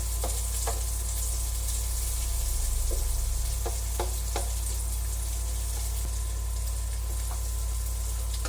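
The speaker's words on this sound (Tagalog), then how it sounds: "Magigisa na rin po tayo ng sibuyas at bawang." Onion and garlic sauté in hot oil in a pan, a steady close sizzle with occasional clicks and scrapes of stirring over a low constant hum, no voices.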